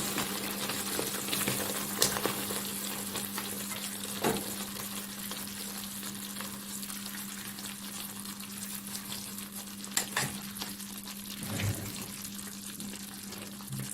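Pasta is added to sauce in a hot pan, making a steady, fairly quiet sizzle with scattered small clicks and a few louder knocks, and no one speaking.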